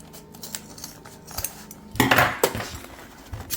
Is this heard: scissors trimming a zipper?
yes